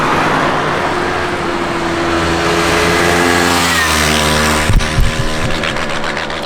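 A 2020 KTM Duke 390 single-cylinder motorcycle revs hard to just above 10,000 RPM, its loud droning engine note climbing and then stuttering as it repeatedly hits the hard rev limiter.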